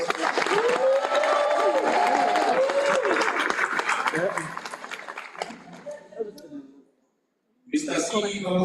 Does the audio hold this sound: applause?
yes